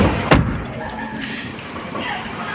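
A single thump early on suggests the door of a new Maruti Alto K10 shutting as someone gets in, followed by a faint steady hum inside the car.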